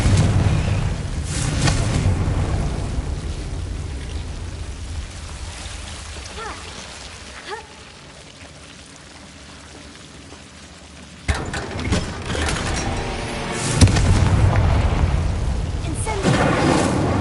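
Confringo fire-blast spells from the Hogwarts Legacy video game produce a continuous rushing, crackling roar punctuated by a few louder booming bursts, loud and close, with voices mixed in.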